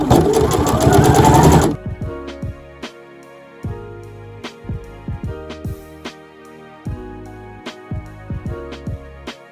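A sewing machine stitches the shoulder seams of a shirt, running in one long continuous burst at first, then settling into a series of short, separate clicking pulses of stitching alone.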